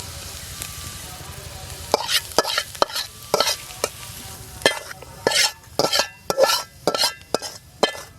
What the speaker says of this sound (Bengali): পেঁয়াজটা ভেজে নিলাম, এবার তুলে নিচ্ছি।